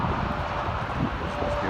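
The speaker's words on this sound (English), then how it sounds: "Pretty windy out here." Wind buffets the microphone along an off-road desert trail, a steady broadband rush holding at moderate loudness throughout, with a faint thin tone drifting through the middle.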